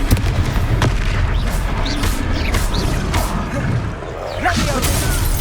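In Hogwarts Legacy combat, a Confringo blasting spell explodes with a booming burst amid other rumbling impacts and magical effects, with voices calling out during the fight.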